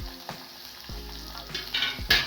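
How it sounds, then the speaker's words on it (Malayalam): Urad dal and chana dal browning in hot oil in a pan give a close, crackling sizzle, with repeated sharp stirring scrapes that grow louder toward the end. "ഉഴുന്നരിപ്പിൻ്റെ കടലപ്പരിപ്പിൻ്റെയൊക്കെ നിറം ഒന്ന് ഒരു ബ്രൗൺ കളർ ആകുന്നത് വരെ അതൊന്ന് ചൂടാക്കണം"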